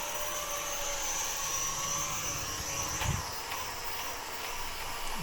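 Small motors of an XS809HW folding drone whine steadily during automatic landing, a continuous high buzzing hum with a soft thump near the end of the descent, close and alone.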